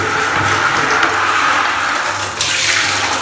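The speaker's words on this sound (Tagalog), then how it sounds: "Malamig na yung buga ng tubig" Cold water sprays out of an Stiebel Eltron electric water heater that has no power, a loud, steady hissing gush running continuously.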